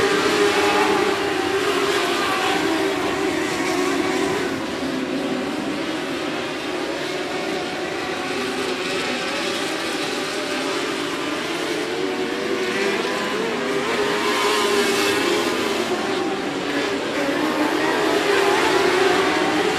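Race cars roar around the oval at 105 Speedway during a regular race program, a loud, continuous engine drone with passing swells and no clear break.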